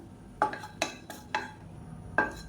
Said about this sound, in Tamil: இப்போ இதில் ரொம்ப லேசான பட்டை வந்து ஒரு ஆறு பீஸ் எடுத்துருக்கேன் இதையும் சேர்த்து வறுத்துக்கலாம்